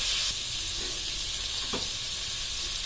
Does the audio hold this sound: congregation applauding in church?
no